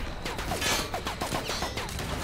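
Gunfire from a firefight in the video game The Outer Worlds, a cluster of fast overlapping shots and sharp impacts at moderate distance, mixed with whizzing effects and no voices.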